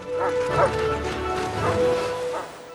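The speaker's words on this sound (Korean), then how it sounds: "남극의 설원을 질주하는 썰매견들." Sled dogs from the film Eight Below bark and yip repeatedly while racing across an Antarctic snowfield, the barks loud and close with a steady background rumble.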